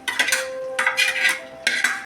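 Green chillies fry in a pan as a metal spoon stirs them in three distinct bursts of scraping and clattering against the pan, each followed by a brief quieter pause.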